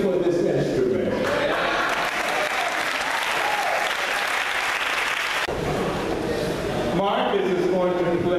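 An audience at a Baltimore organ event cheers and applauds loudly and continuously, with dense clapping and shouts filling the whole stretch and a brief dip before the applause swells again.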